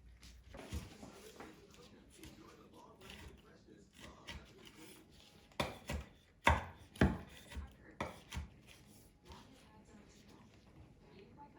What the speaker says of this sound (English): it's a little bit too thick, so we just want to give it a quick trim.